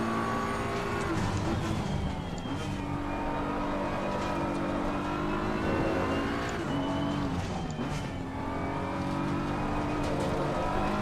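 A BMW M4 GT3 race car engine from the 2022 model, driven in the Assetto Corsa Competizione racing game, drones steadily and loudly throughout, its pitch rising and dipping as the car accelerates and lifts through corners.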